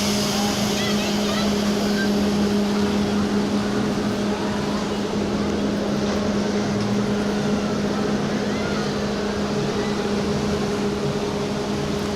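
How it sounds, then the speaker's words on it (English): Water rushes steadily around a raft on an amusement park river rapids ride, giving a constant loud churning wash over a low mechanical hum, with faint voices mixed in. "So they do have a really cool rapid ride here."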